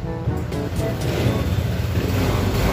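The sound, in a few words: Honda Click 150FI scooter engine revving then stalling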